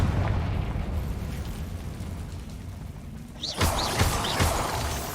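Confringo spell explosion in the video game Hogwarts Legacy: a rumbling burst of blasts with crackling, whooshing effects over a steady roaring game background.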